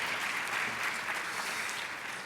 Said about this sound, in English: Let's give her one more round of applause for that great story.